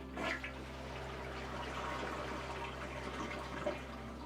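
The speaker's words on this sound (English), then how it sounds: "we hold down on this flush lever until we hear no more water dripping" Water draining from a toilet tank while the flush lever is held down, a soft steady rush and trickle with a low hum underneath, fairly quiet and uninterrupted.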